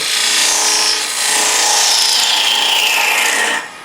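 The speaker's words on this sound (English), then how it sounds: "First we'll use a detail gouge," Detail gouge cutting the end grain of a wooden box spinning on a lathe, a loud continuous rasping scrape with shifting pitch that eases off briefly and then stops near the end.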